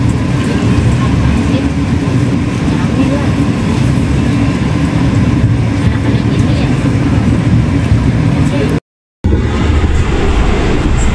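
The Progo passenger train runs steadily along the line toward Bekasi with a loud, continuous rumble and rattle, briefly cut to silence near the end.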